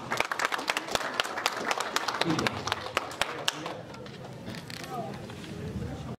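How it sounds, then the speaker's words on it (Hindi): Scattered applause after a ceremony, thanking the singers: sharp individual claps, fairly close at first, thin out and fade after a few seconds while voices murmur underneath. "जो लोग गीत गाने वाले उनको लोग तालियां से उनको धन्यवाद दें।"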